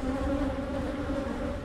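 Honeybees buzz close around a GoPro camera, a steady, droning hum of several insects near the lens, continuous and fairly loud with no talking.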